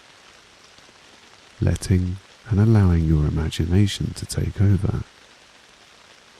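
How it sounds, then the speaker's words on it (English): Steady rain falls softly in the background, a continuous gentle hiss of raindrops under a calm spoken voice that pauses at both ends. "immerse yourself in the sounds of the raindrops"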